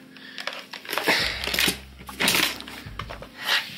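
An old keyboard, older than the PC it is used with, clacks in irregular bursts of mechanical keystrokes, close and moderately loud, with a low hum in the background.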